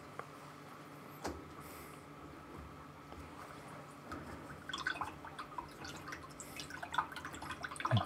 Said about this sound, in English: I'm just washing my brush